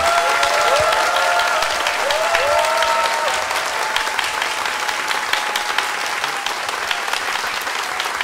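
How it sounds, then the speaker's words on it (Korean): A studio audience at a televised economics talk concert applauds steadily and loudly to welcome a guest lecturer, the clapping sustained throughout with a few voices at the start. "큰 박수로 맞아 주시기 바랍니다."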